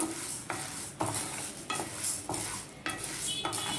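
Urad dal stirred and roasting in a little oil in a pan, with a steady sizzle broken by repeated scraping strokes of a spoon against the metal, close up and with no talking.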